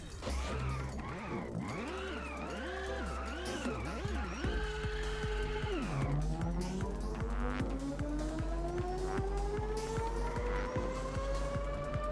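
A racing car in the video game Inertial Drift roars through gear changes and long drifts, engine pitch swooping up and down with rhythmic shifts, loud and close with tire squeal, no one speaking.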